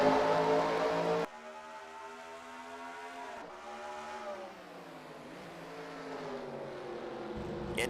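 Race cars launch at Watkins Glen in a racing video game, engines droning and rising in pitch together as the pack accelerates, a sustained mid-level roar after a brief louder opening burst.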